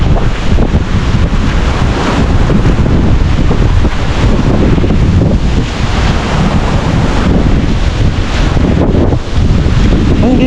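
Strong typhoon winds roar steadily and loudly, buffeting the microphone with dense, unbroken gusts and rushing noise for about ten seconds, no voices heard.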